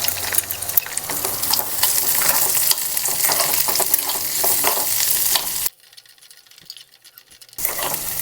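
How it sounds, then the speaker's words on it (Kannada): Square-chopped onions dropped onto garlic in a hot pan, frying with a steady close crackling sizzle and stirring scrapes, then a brief near-silent gap before the sizzle returns. "ಸೊ ಇವಾಗ ನಾನು ಚಾಪ್ ಮಾಡ್ಕೊಂಡಿದ್ನಲ್ಲ ಸ್ಕ್ವೇರ್ ಶೇಪಲ್ಲಿ ಆನಿಯನ್ಸ್ನ ಅದನ್ನು ಹಾಕೋತಾ ಇದ್ದೀನಿ."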